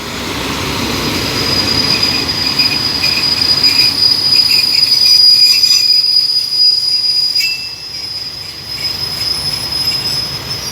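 A Thai commuter train, hauled by an Alsthom diesel-electric locomotive, pulls out of Nava Nakorn halt, wheels squealing with a sustained high metallic whine over a broad rumble, loud and close.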